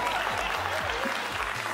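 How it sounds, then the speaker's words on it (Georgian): A studio audience applauding at a Georgian talk show, dense steady clapping throughout with a few low thumps underneath. "ტაში"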